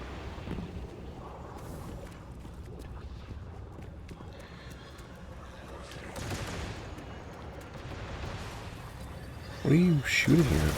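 Gunfire crackles in the video game Destiny 2: Edge of Fate, rapid bursts of shots blending into a dense rumbling wash over a steady background, with a voice speaking near the end.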